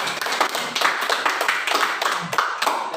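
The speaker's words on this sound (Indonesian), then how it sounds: "kita beri tepuk tangan terlebih dahulu" A group claps hands together at a small student guidance session, with steady, dense clapping that stays fairly loud across the whole stretch and no talking.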